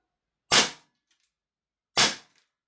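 An airsoft gun fitted with an ESHOOTER Flare Smoky BT smoke tracer unit fires two sharp, loud single shots about one and a half seconds apart, each a crisp crack with a short decay and silence between.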